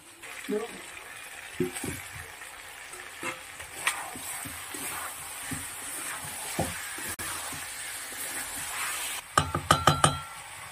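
Fried potatoes tipped into a pan of sizzling, well-cooked mutton: steady frying hiss under scattered clinks and scrapes of a spoon against metal, ending in a quick burst of sharp rattling knocks, close up and without talk.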